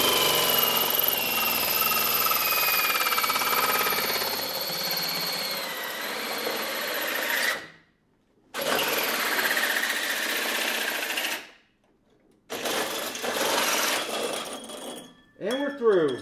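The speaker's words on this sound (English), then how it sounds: "We're drilling a hole right now" A high, grinding whine of a power drill boring into metal runs steadily, stops briefly twice, then resumes before a final burst.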